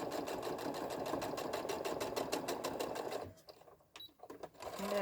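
A sewing machine top-stitches a seam on a mini tote bag with a fast, even run of needle strokes close by, then stops, leaving a few faint clicks and handling sounds.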